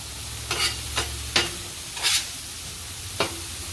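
Louisiana sausage singeing in a hot pan for chicken and sausage pasta, a steady sizzle punctuated by five or so quick scraping stirs of a utensil.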